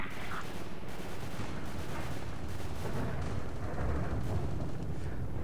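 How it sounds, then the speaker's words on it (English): Gunfire crackles in the Call of the Zone video game: dense, continuous rough bursts of distant shooting with no clear gaps, heard alone without any talk. "Somebody is shooting."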